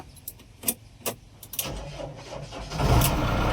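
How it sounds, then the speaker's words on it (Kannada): A JCB machine is started near a garage: a few sharp metallic clicks and jangles from the key, then the engine cranks and catches, rising into a loud, steady mid-pitched idle rumble with no talking. "ಇವಾಗ ಗಾಡಿ ಸ್ಟಾರ್ಟ್ ಮಾಡ್ಕೊಂಡು ಗ್ಯಾರೇಜ್ಗೆ ಹೋಗೋಣ"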